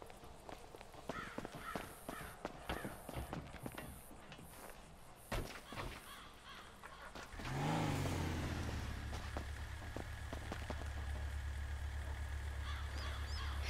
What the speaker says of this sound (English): We're gonna do a burnout match and a drag race